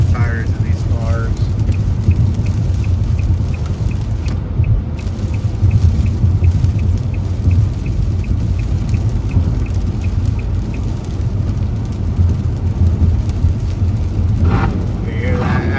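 Car tires hissing and spraying water on a flooded California highway, a steady loud roar of wet road noise from inside a moving vehicle with passing traffic.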